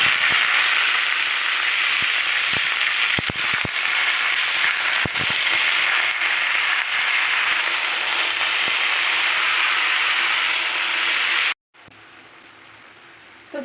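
Malabar spinach hits hot oil in a Bengali kitchen, dropped in after the tempering spices, with a loud, dense sizzle and crackle that runs steadily with small pops, then cuts off abruptly near the end.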